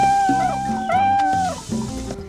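Cats meowing in the Tropico 2 video game, several clear meows in quick succession, close and loud, with a caterwauling quality and no talk.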